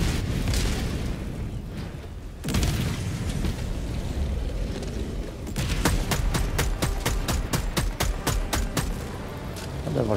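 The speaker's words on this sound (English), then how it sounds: "Firing orbital strike." Orbital strike in Helldivers 2 lands as a series of loud, deep explosions: one heavy boom, then a fast run of sharp blasts rattling off in quick succession amid ongoing battle noise.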